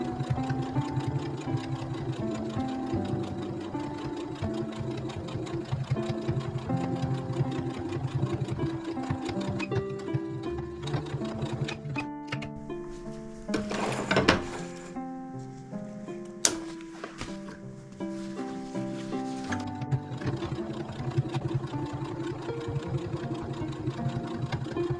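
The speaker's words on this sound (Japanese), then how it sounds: "端ミシンをかけたところを縫っていきます。" A domestic sewing machine stitches along the edge of a fabric pouch, running in a steady whirring rhythm with brief pauses and a couple of sharp clicks partway through.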